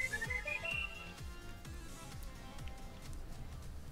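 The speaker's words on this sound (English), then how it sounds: "we can use the whistle and head on out" A short rising whistle effect sounds at the start of a Shantae: Half-Genie Hero video game scene, then gives way to bouncy game music with a steady beat.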